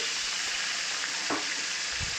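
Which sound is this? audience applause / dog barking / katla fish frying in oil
katla fish frying in oil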